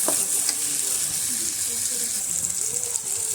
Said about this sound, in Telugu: కడిగి పక్కన ఉంచుకున్న చికెన్ అయితే ఇప్పుడు ఇందులో వేసేసి చక్కగా కలిపేసుకోవాలి